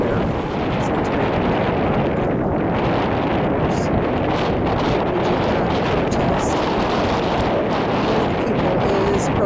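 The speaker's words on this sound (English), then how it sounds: "It is extremely windy out here." Strong wind roars steadily against the microphone at an outdoor roadside protest, a dense, loud rumbling buffet with no pauses.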